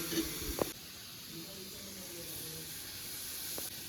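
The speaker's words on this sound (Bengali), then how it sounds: "পেঁয়াজ এদিকে ভেজে নিচ্ছি" Onions fry in a pan with a low, steady hiss and sizzle, quiet and continuous, with a couple of brief clinks of a utensil and faint background voices.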